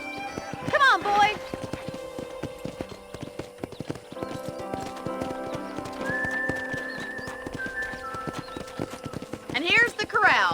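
Horse hooves clip-clopping at a walk in the video game Red Dead Redemption, a steady close rhythm beside a ranch corral, with a brief whinny and talk over it.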